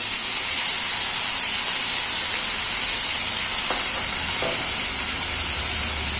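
Red chili paste sizzles steadily in a hot frying pan while being stirred into a restaurant-style soya chilly, giving a constant loud hiss with a few faint scrapes.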